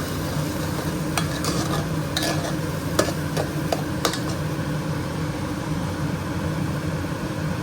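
Onions fry in a pan with cumin and asafoetida under a steady close sizzle, with a few sharp clicks and scrapes as a spoon stirs them.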